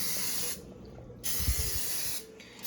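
Cooking spray hissing onto metal bread pans in short bursts, close and clear, with a brief pause and a soft knock between sprays.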